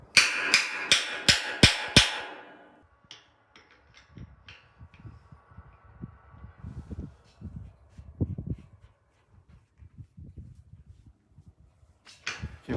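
Five sharp metallic hammer strikes on a center-pivot irrigation nozzle ring out in quick succession, followed by quieter scattered knocks and clunks.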